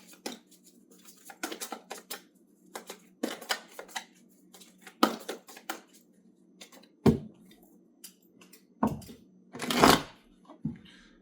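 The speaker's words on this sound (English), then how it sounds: "Could just be bad shuffling" A deck of tarot cards is shuffled by hand close up, irregular bursts of crisp riffling and slapping with short pauses between them, plus a few louder flutters and knocks.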